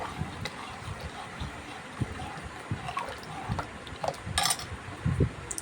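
Sambar ingredients, salt and sambar powder with water, get stirred in a pressure cooker: soft liquid sloshing with light metallic clinks of a spoon against the pot, irregular and close.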